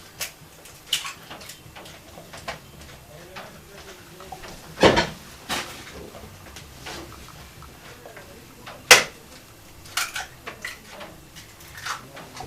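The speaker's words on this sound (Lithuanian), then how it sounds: "Ir įsimušame kiaušinius." Eggs cracked one after another into a bowl of salted omelette mixture: two sharp, close shell cracks stand out against quiet kitchen clatter and faint ticking.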